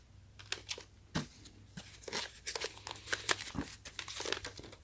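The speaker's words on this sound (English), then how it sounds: "you need to break this and pull out this plastic tab in order for the toner to go into the rollers" Close crinkling and sharp snaps as a clip is broken and a plastic tab is pulled from an HP LaserJet Pro 200 color toner cartridge, a cluster of crisp cracks and rustles over a low hum.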